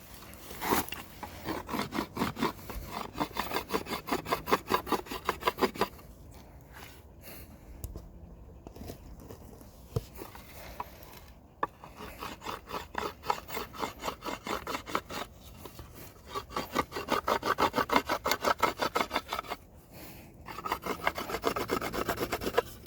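A wooden hiking staff scraped and rubbed smooth by hand without sandpaper, in a bushcraft setting, with rapid rhythmic rasping strokes close by, continuing in long bursts with brief pauses.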